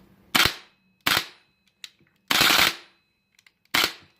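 Four sharp mechanical snaps with metallic ringing tails from a GBLS GDR15 DAS airsoft rifle bolt cycling, spaced about a second apart, close and loud, with a faint click between.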